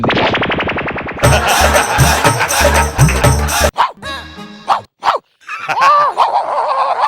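A voice imitates a dog in a TV comedy skit, with quick barks and yips coming in bursts and loud clattering, rapid popping sounds in between.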